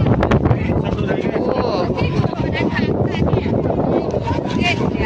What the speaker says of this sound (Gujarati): અત્યારે કેટલો પવન છે એ તમે જુઓ.